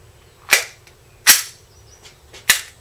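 Three sharp 9mm shots from an HK P30L pistol, loud and close, spaced roughly a second apart, each with a short ringing decay and nobody talking.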